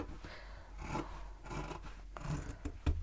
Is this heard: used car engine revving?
no